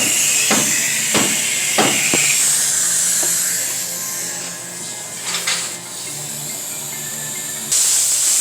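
Compressed air blown into a transmission band servo, giving a steady loud hiss throughout with several short sharp bursts of air near the start and a surge near the end.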